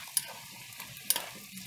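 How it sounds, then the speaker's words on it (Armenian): Dried fruits fry in oil in a pan for a pilaf with nuts, giving a soft, steady sizzle broken by two sharp stirring clicks, with no talk. "իմ չարազեղենն է յուղի մեջ տապակվում"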